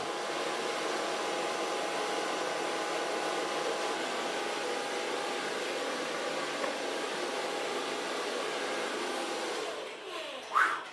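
A hair dryer blows hair dry on a short blonde bob, a steady close whooshing drone lasting the whole stretch, with a small bump near the end.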